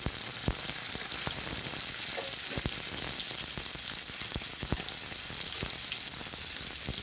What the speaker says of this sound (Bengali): দিয়ে ওটাকে আমি আস্তে আস্তে ভাজা করে নেবো